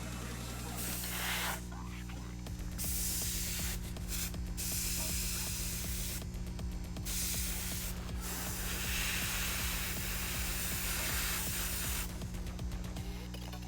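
An airbrush sprays black paint over a miniature, sending out repeated bursts of close, soft hissing broken by short pauses, with quiet talk in the background.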